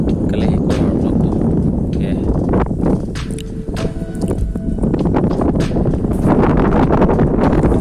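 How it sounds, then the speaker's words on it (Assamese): Strong wind buffets a bamboo raft on open water, a steady loud roar of gusts and microphone rumble filling the whole stretch with brief dips in the middle. "আজি বতাহে ইমান আমনি দিছে আমাক"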